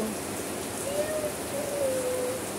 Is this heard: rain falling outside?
yes